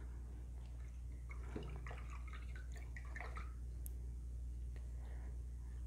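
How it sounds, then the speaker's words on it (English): A paintbrush is swished and rinsed in a water cup during an acrylic painting session, faint soft sloshing and dripping over a steady low hum. "And I'm going to rinse my brush out."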